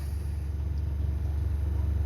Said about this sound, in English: You can hear the noise of the fresh water tank filling up